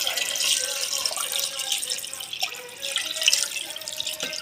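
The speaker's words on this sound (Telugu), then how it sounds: "ఆ పాత్రతో వాటర్ తీసుకుంటున్న హారిక ఇప్పుడు అందులో పోస్తుంది" Steady splashing of water being poured, with occasional drips and clinks of a vessel, fairly close and continuous throughout.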